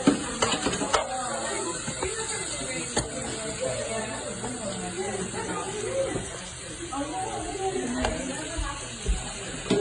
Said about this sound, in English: Now I'm gonna cook high fire. Yeah, cook the beef really high.